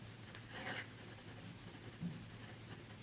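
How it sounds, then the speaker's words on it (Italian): A Sailor Profit Junior fountain pen with a fine-medium nib scratches and rubs faintly across paper, giving a quiet, close, soft scrape with a brief louder stroke. "chi è attento soltanto alla scrittura troverà pane per i suoi denti anche con questa penna che andiamo a provare"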